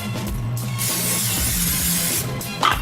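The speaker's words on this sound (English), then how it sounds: "we're gonna take some cooking spray, we're gonna coat the bottom of this baking dish" A steady, loud hiss from a can of cooking spray held close over a baking dish, lasting a couple of seconds before stopping, with a faint clink afterward.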